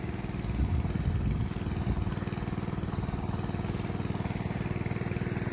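A water pump motor runs steadily to irrigate a Turkish orchard of quince, pomegranate and apricot trees, giving an even, rapid mechanical chugging at close range that holds constant throughout.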